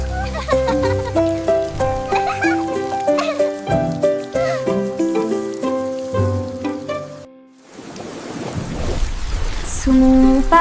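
After a bright children's song melody, rain patters steadily on an umbrella for a few seconds as a dense hiss, before the music returns.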